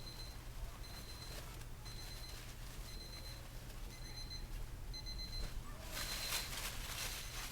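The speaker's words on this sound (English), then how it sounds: "that's my alarm saying it hit 140" A meat thermometer probe alarm beeps in repeated short bursts, moderately spaced and faint, while prime rib steaks cook in a smoker; low background hum continues and no one speaks.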